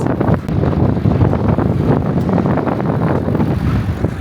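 Strong wind buffets an open farm field in Canada, a steady loud roar with gusty low rumbling across the whole stretch and no voices.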